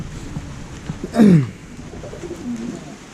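A single pigeon coo from birds kept above goats in a village home, one short rolling call near the middle, moderately close, over quiet background noise.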